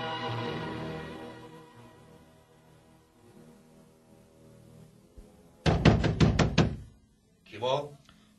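A rapid burst of about six firm knocks on a door, close and loud, in a stage play about the Battle of the Trench, preceded by a voice and followed by a brief vocal sound.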